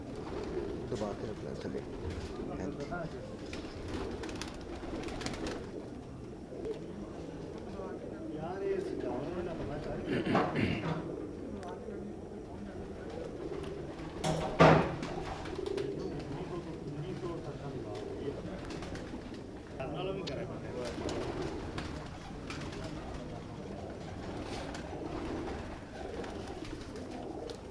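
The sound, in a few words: pigeons cooing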